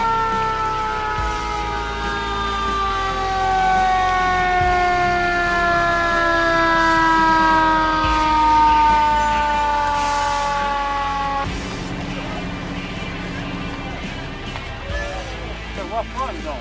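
A fire truck siren wails loudly in long, slowly falling tones during a drive-by parade, with people talking over it throughout; the siren fades out partway through.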